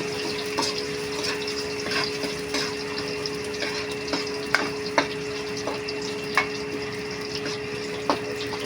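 Onions fry in oil with ginger for sinigang, a steady close sizzle with a faint hum running under it and occasional sharp clicks of stirring, and no one talking.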